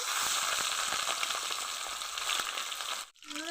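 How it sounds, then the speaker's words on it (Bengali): A fish head rubbed with turmeric and salt fries in hot oil in a wok, giving a dense, steady crackling sizzle close by that cuts off abruptly near the end, followed by a brief quieter tail. "কড়াইয়ে তেল গরম করে নিয়েছি এখন মাথাটা ভালো করে ভেজে নেব"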